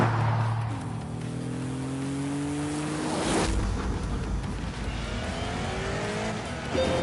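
A V6 estate car in The Grand Tour Game drives steadily with a continuous engine drone, revs climbing and falling through gear changes, loud and close with no talk over it.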